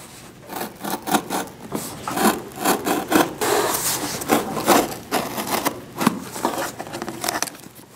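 Cutting crater pieces for tabletop RPG terrain yields a steady, close scraping and rasping with repeated sawing strokes in an uneven rhythm, fairly loud, with no talking.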